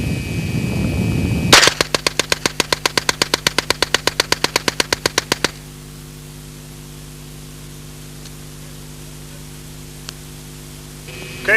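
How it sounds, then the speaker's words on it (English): A 1977 Alan Halla prototype low-recoil submachine gun fires Federal ammunition while held upside down, loosing one sharp, loud automatic burst of about thirty rapid, evenly spaced shots that stops abruptly and leaves a low steady hum. "I'm going to try to shoot the gun now upside down, see if the weapon will function."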